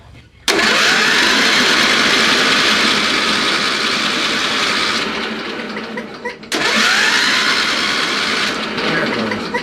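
John Deere LT 111 lawn tractor engine being cranked by its starter in two long, loud, close grinding bursts with a brief gap between, the engine struggling to fuel and not catching.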